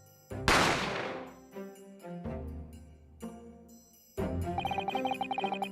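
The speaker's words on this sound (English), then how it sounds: "I didn't have time to think about where the sound of the gunshot came from." In the Great Ace Attorney Chronicles video game, a loud gunshot effect bursts out amid dramatic music stings and sustained tones, ending in a rhythmic, pulsing musical passage.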